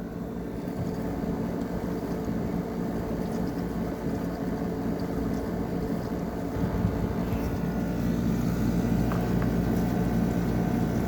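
DeLonghi Pinguino portable air conditioner with a compressor blanket running, a steady low rumbling hum with airy fan noise, continuous and close, growing slightly louder partway through.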